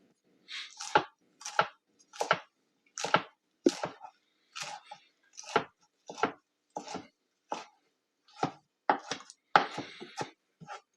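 Lettuce is chopped for crunchy tacos in a steady series of about fifteen crisp knife strokes on a board, close and clear in an otherwise quiet kitchen.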